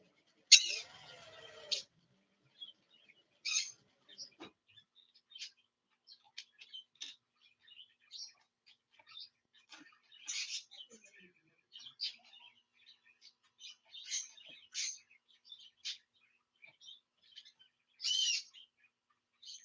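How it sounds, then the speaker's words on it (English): A pet bird chirps indoors in a quiet room, giving short high chirps and tweets at irregular intervals, some louder bursts, mostly alone with no talking. "Unless the bird gets to be too annoying"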